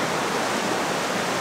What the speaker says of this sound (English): predominantly two little brooks that come off the main river here